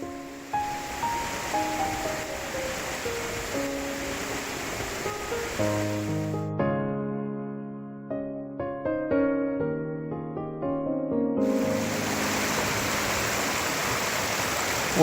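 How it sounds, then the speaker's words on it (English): A waterfall and creek in Southern California give a steady broadband rush of falling water. Tonal music plays over it, and the water drops out briefly in the middle before returning. "One last look up at the waterfall."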